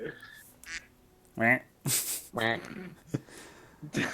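Duck quack sound effect from a Discord soundboard, a string of loud nasal quacks fired off in quick succession, several clear bursts separated by short gaps.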